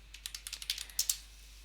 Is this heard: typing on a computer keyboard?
yes